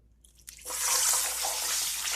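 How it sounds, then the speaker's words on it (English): Water flicked into hot frying oil, ready for battered fish, bursting into a sudden loud, steady sizzling crackle that follows a brief drip and holds strongly to the end. "I like to check it with water because it pops"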